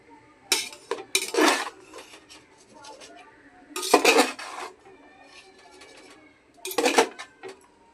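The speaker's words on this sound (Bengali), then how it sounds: "এক দুবার নাড়াচাড়া করে আমি ঢাকনা দিয়ে দেবো।" Vegetable mixed fried rice in a pot set on a flat griddle, stirred with a metal spoon in clattering, scraping bursts, then a metal lid clanks on near the end, loud and close.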